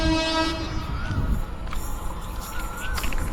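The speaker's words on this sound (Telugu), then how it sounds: "ఇప్పుడైతే నేను లోకల్ ట్రైన్లో ఉన్నా గుమ్మడిపూడి దగ్గర" A local train near Gummidipoondi sounds its horn in a couple of long blasts over rumbling wheels and carriage noise, with faint background voices.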